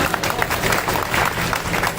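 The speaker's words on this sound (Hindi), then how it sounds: "अब इस मुद्दे पर महिलाओं ने तो बहुत बड़ी ताली बजाई" Women in an audience at a Punjabi community gathering applaud in a dense, continuous patter of many clapping hands, loud and sustained for a short burst with faint crowd murmur mixed in.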